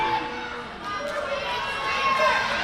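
A wrestling arena crowd chants a wrestler's name in unison, a loud, steady wash of many voices that swells slightly toward the end.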